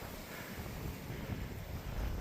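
Wind gusts across a hillside above the trees, a steady close rumble of air against the microphone with no voices.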